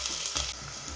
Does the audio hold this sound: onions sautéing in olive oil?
yes